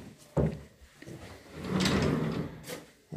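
Closet doors in a mohawk house slide and bump open, a sharp wooden knock followed by a longer rolling, rumbling slide and another thud at the end, close and alone.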